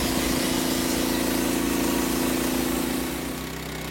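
A Frontier portable sawmill's engine runs steadily and loudly close by, a constant mechanical drone that eases slightly toward the end.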